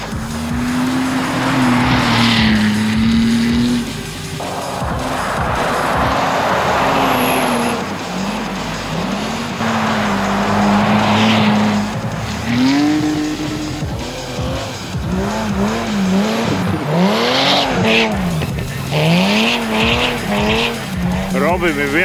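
A 600-horsepower race car drifts on ice, its engine rising and falling in repeated wailing revs alongside skidding, with loud sustained runs and quicker bursts of throttle toward the end; a voice talks over it.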